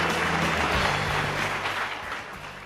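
Conference audience applauding and cheering for Pete Buttigieg at a policy conference, a dense, steady wash of clapping throughout, loud and continuous without talk.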